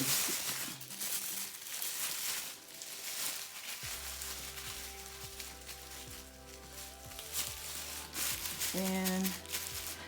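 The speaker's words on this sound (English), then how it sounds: "the next thing I do then is to cover my hair with a plastic bag" A plastic bag crinkles and rustles up close in soft irregular bursts as it covers hair during a hot oil treatment, with a quiet tonal hum and music-like tones running underneath.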